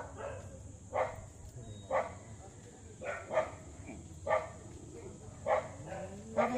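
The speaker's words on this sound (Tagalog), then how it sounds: "ang sungit ng aso" A dog barks in regular single barks about once a second, moderately near, with a steady hiss and some background voices.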